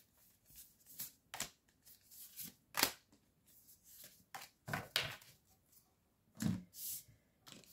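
Tarot cards shuffled and drawn during a French love-themed reading, a run of crisp papery riffles, snaps and flicks in irregular bursts, close and fairly quiet with no talking.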